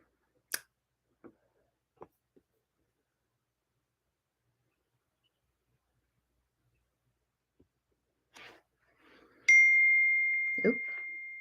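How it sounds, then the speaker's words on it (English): A text message notification ding rings out close and clear, one bright chime settling into a sustained tone, after a few soft clicks and taps in an otherwise quiet room. "Oop, getting text messages."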